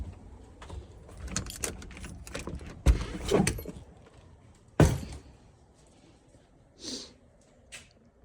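A door into a two-car garage of a house is opened. Two solid thunks sound up close, along with the rattle of keys and handle, and then a few fainter knocks follow as the room goes quiet.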